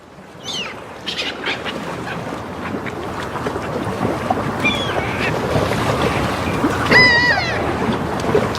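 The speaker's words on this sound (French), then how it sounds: "C'est vrai que c'est des belles mouettes." Gulls cry intermittently over a constant roar of wind and waves along a lakeshore, with a clear squealing call near the end.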